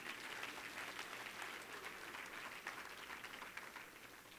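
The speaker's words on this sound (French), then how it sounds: "Là, on peut applaudir." A French-speaking church congregation applauds during a sermon, dense and soft clapping heard faintly as a continuous hiss-like patter with no voices standing out.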